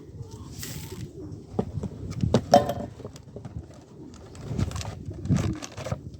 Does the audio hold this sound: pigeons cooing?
yes